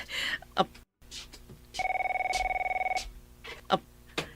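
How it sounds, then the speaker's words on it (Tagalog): An old-style telephone bell rings in a steady burst of rapid trills lasting about a second, at the start of a tense scene in an Ilocano-language drama, with brief voices and soft knocks just before and after. "Ti telepono."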